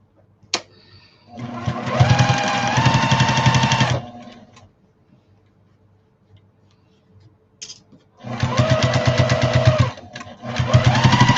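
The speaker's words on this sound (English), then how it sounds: "Let's go do a 1/2-inch seam on that as well" A sewing machine stitches a half-inch seam on a fancy shopping bag in two fast, rhythmic bursts of close, loud whirring, separated by a few seconds of near quiet.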